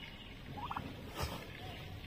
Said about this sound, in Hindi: ये टर्की का असली चूजा।